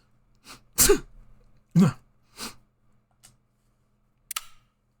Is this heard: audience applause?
no